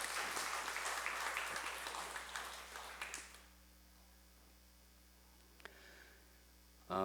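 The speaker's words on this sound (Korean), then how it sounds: "박수, 마지막 박수" A church congregation claps in a dense burst for about three seconds, which then fades quickly into a quiet room hum, with a faint knock late on.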